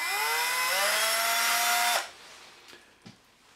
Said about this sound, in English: I'm ensuring that the drill is in reverse and I'm also choosing the slowest speed